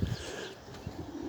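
Paired pigeons confined in a loft while being treated for canker, their low cooing murmuring in short repeated bursts close by, with faint chirps over a steady background.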